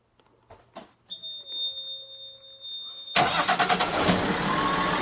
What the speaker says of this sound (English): On va voir comment ça démarre à froid.